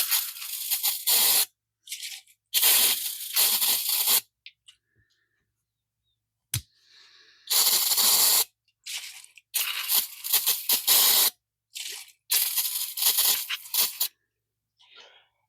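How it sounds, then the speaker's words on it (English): Brake cleaner hissing from an aerosol can in about seven loud, close bursts of one to two seconds each, separated by silent pauses and faint clicks. "Give it a good brake clean bath."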